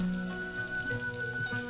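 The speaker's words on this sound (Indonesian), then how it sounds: "Masukin untuk si cilok yang udah kita lapisi dengan telur, masukkan ke dalam wajan berisi minyak panas ya, seperti ini." Egg-coated cilok balls sizzle and crackle steadily in hot oil in a wok, a loud continuous frying hiss with no talk.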